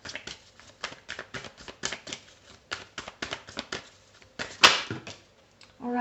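Tarot cards shuffled by hand in a steady series of crisp riffling snaps and taps, close up, with one sharper slap near the end and no speech.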